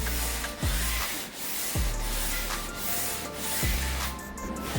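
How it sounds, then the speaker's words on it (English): Sanding of guide-coated body filler on a van panel, with repeated rhythmic back-and-forth abrasive strokes, about four passes, close and steady with no talking. "So we'll start sanding."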